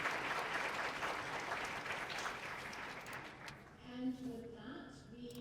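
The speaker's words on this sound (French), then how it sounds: "Je vais donc vous demander d'applaudir tous nos panélistes qui ont parlé cet après-midi." Applause from a crowd at a conference plenary session fills the first several seconds, dense and steady, then fades as a voice begins speaking.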